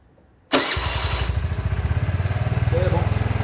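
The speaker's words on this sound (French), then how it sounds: "on va démarrer." A Kymco Agility 50cc four-stroke scooter engine starts abruptly after a moment of near silence, firing up loudly and settling into a close, rapid, pulsing idle.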